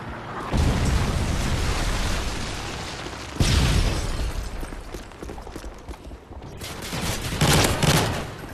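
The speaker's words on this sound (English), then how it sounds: "Friendly Predator missile inbound." Heavy explosions and rapid gunfire fill a Modern Warfare 3 match on the Arkaden map as a Predator missile strike lands: loud, dense booming bursts that swell, fade and return.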